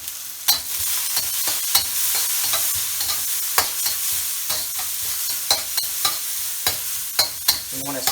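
Ginger and garlic sizzle in hot oil in a wok while a utensil stirs and scrapes in frequent sharp strokes, a steady close frying hiss underneath.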